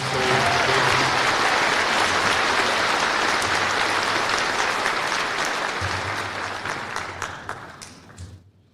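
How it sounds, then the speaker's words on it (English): An audience at a Lander Valley High School Class of 2023 graduation ceremony applauds in a dense, sustained burst of clapping that holds steady, then thins out and fades to a few last claps. "Let's have another round of applause for the brilliant"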